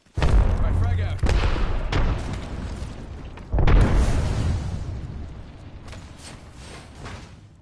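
Frag grenade blasts in Fortnite: two heavy booms, one right at the start and a second a few seconds later, each leaving a long rumbling decay, with players talking over the action.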